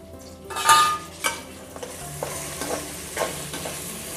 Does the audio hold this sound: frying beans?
yes